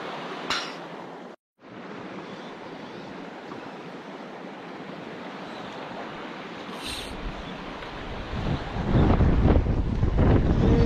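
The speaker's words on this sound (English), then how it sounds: "And the wind picks up." Wind picking up outdoors while fishing, a steady broad rush of air buffeting the microphone that swells louder toward the end, with no talk.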